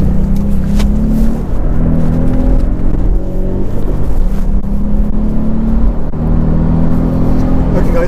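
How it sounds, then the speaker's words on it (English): A Volkswagen Up! GTI cruises at about 70 mph on a dual carriageway, its engine drone and road roar steady and loud from inside the cabin, with faint speech mixed in. "here we are on the dual carriageway then, at about 70 miles an hour"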